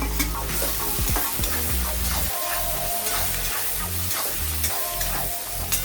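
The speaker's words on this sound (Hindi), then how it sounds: "अब हम ये अनियन डाल देते हैं।" Onions hit hot oil in a pan while cooking Bengali chicken curry, a constant loud sizzle with repeated scraping and clacking of a spoon stirring, close up and without talk.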